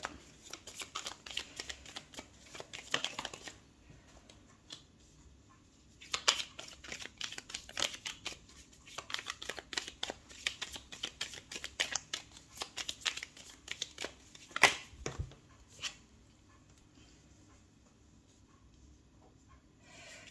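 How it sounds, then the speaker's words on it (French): Tarot cards shuffled and dealt out one by one onto a surface: a soft, close flutter and rustle of shuffling, then intermittent slaps and slides as cards are placed, with no voices. "Je vais rien dire jusqu'à ce que j'ai posé toutes les cartes."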